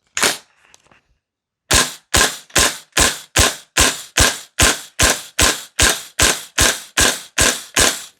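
A VFC V3 URGI 10.3-inch M4 gas blowback airsoft rifle fires one sharp crack, then after a short pause fires about fourteen loud, close shots in a steady, quick, even rhythm, each with a snappy mechanical report.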